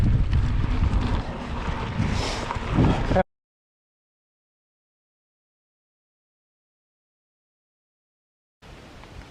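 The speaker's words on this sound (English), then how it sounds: "a bit windy now." Wind buffets the microphone in a rough, low rumble for a few seconds during a bike ride in South Australia, then cuts to silence before the gusting returns briefly.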